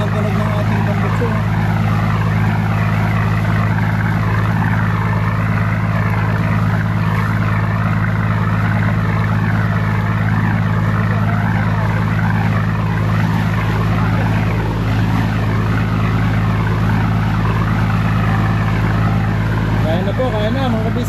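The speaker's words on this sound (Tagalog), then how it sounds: "Ganda ng tunog ng ating tambutso." A vehicle's exhaust roars steadily and loudly throughout, a continuous close engine drone on a road in Siargao as a typhoon approaches, with no break in the sound.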